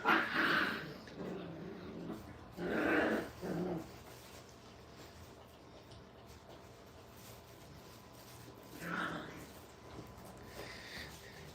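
Brittany dogs at a puppy training kennel whimper and growl in short, fairly quiet bursts separated by pauses, with faint low background noise between the vocalizations.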